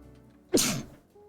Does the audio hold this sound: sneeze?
yes